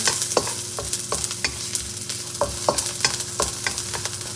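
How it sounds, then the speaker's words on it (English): Ginger and garlic frying in hot vegetable oil, a bright continuous sizzle with quick, repeated spatula strokes scraping the pan in a brisk rhythm, close and fairly loud. "In goes the ginger and garlic. Give that a quick fry."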